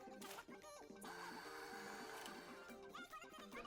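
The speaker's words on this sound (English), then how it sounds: "turn on the blender," Electric blender grinding soaked rice in the video game Venba, a steady whirring motor drone with a faint rhythmic churning pulse running throughout, mid-distance and continuous, no voices over it.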